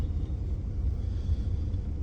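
A car creeping slowly along a narrow street, heard as a low, steady engine rumble with no other distinct sounds.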